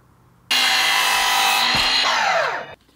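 A power drill drives a screw into 3/4-inch baseboard wood planks during an electric baseboard heater install: one loud, steady whir of about two seconds that winds down in pitch as the screw seats, with no talk.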